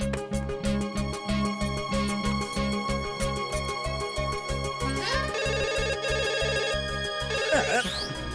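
A telephone rings repeatedly in a steady pulsing pattern through a Hindi-dubbed action film scene, the ring loud and close for several seconds before a thinner electronic tone takes over near the end.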